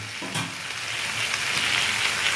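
Water is poured into a frying pan of fish shukto with thankuni leaves, setting off a steady hiss and sizzle that swells after a brief splash near the start and carries on alone.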